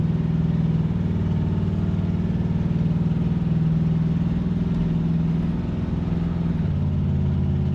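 An old car that has sat off the road for 16 years revs hard while driving in a low gear, its loud, steady engine drone and rumble holding close throughout before easing slightly near the end.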